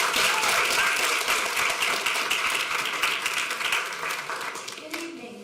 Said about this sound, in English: please give a round of applause for Montoya Merrill.